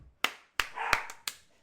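Dogs bark in five sharp, separate bursts spaced at irregular intervals, fairly quiet and somewhat distant.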